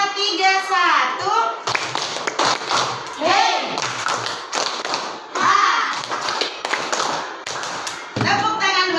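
Children in a classroom clapping a counted rhythmic pattern, sharp grouped claps alternating with a leader's voice calling out counts and instructions between the bursts, close and loud.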